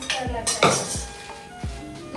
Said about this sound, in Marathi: एकदम रेडी तयार आहे भांडी घासण्यासाठी